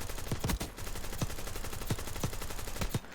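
Rapid automatic gunfire in Call of Duty: Black Ops 6, sustained bursts of close weapon shots with sharp cracks, loud and continuous with no talk.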